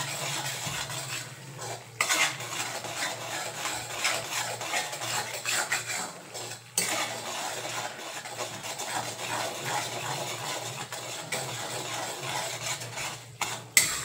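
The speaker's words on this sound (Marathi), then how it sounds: "सारखं ढवळत राहायचंय म्हणजे आपला रवा जो आहे ते करपणार नाही" Semolina (rava) roasting in a pan is stirred continuously, a steady close gritty scraping with occasional louder knocks of the spoon against the pan.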